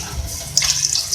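Water splashes and gurgles as three cups are poured into a pot of meat cooking for aloo gosht, a brief close-up rush of liquid.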